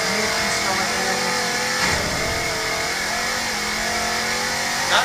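Warthog vehicle engine in Halo 4 revving with a steady mid-pitched drone and shifting pitch sweeps, loud and continuous, with game sound effects layered over it.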